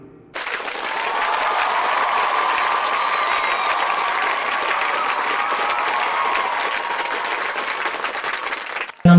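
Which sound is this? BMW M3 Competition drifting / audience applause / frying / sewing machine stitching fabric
audience applause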